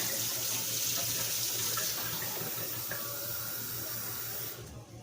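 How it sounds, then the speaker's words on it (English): Water pours steadily from a small can into a cooking pot, a continuous close splashing fill for several seconds that tapers off at the end, with no talking. "So that's 4 of the little cans full of water that I've poured into this."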